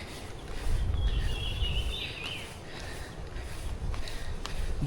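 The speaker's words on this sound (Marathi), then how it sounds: "पक्ष्यांचा किलबिलाट" Faint bird chirps and calls drift through a forest near a waterfall with a steady ambient hiss, a few brief tweets standing out over low background rumble.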